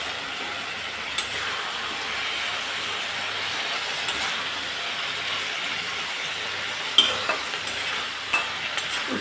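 Fish sizzles steadily in a hot pan, a dense, even crackle that holds close and loud throughout, with a few sharper pops and spatters near the end.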